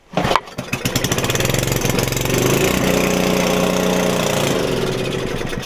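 A small engine cranks with a few quick turns, catches and settles into a loud, steady idle that runs on evenly as it warms up, heard close with no talking.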